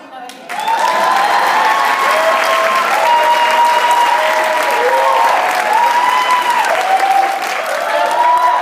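A conference general session audience applauds loudly and steadily in a large hall, with sustained clapping and raised voices and cheers mixed through it.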